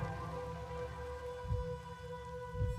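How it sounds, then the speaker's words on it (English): Gentle rain falls steadily in the video game Master Detective Archives: Rain Code, a soft constant patter alongside a low sustained musical drone, with faint low thuds near the end. "It's a gentle rain, protecting us."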